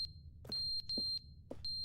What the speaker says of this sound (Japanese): この音は何ですか ビープ音なんだい